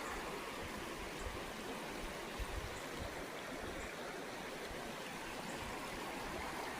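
Steady, unbroken rush of river water flowing over rocks in Coosa County, Alabama, a close and constant wash with no voices.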